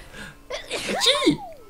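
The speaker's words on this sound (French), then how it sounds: "Et je vais éternuer." A single loud sneeze close to the microphone, with a sharp intake of breath before the burst.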